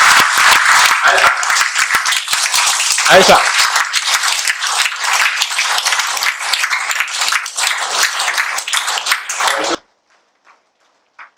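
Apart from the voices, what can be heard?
audience applauding loudly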